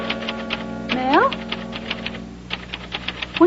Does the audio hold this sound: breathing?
no